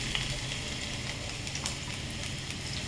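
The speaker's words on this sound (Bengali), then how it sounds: "এবার কড়ার মধ্যে একে একে প্রথমে দিলাম রসুন কুচি" Chopped garlic sizzles in hot white oil in a wok, a steady crackling hiss with scattered sharp pops at moderate, close volume and no talking.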